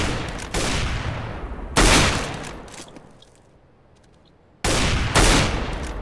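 Gunfire in Counter-Strike: Global Offensive on the Dust II map: two loud, sudden bursts of shots, the first ringing out and slowly decaying into quiet before another sharp volley breaks in near the end.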